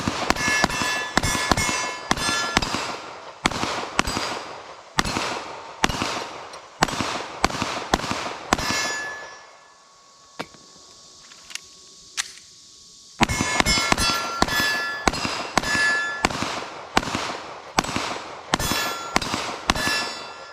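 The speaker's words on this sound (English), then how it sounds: "Let's just shoot some and bang some steel" Rapid Glock 19 Gen 5 pistol shots ring out in fast strings, each crack followed by a sharp metallic clang off steel targets, with a brief quiet pause midway before the firing resumes.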